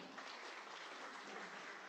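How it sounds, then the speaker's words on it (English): A brief burst of dense applause from a conference audience, even and sustained, heard at a moderate distance. "Okay, can we get another applause for Mrs. Zahrani?"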